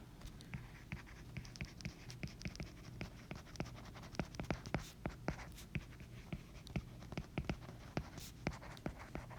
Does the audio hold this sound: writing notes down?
yes